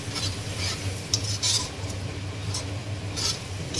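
Mutton is stirred in a pan with ginger garlic paste, giving repeated scraping strokes of a utensil against the pan over a low sizzle, in an uneven, steady rhythm close by.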